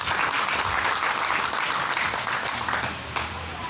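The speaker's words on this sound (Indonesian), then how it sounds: "Kasih aplaus dulu kepada Mbak Ros." An audience claps for Mbak Ros at a BPJS Ketenagakerjaan outreach session in Magelang, steady applause from a room full of people that holds evenly, then thins slightly near the end.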